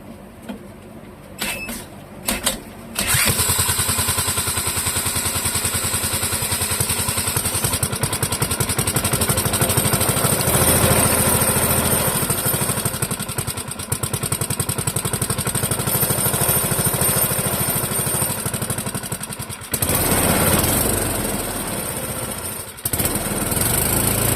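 A Clinton model 3100 small engine clamped to a bench fires up and runs at a loud, steady buzz close by for about twenty seconds, with a brief stumble and a short drop near the end as it runs low on fuel.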